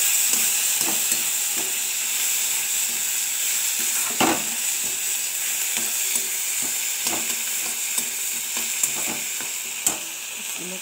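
Chickpeas, chopped tomato and green chillies fry in a pan, giving a steady close sizzle with repeated spatula scrapes and taps at an uneven rhythm, without talk.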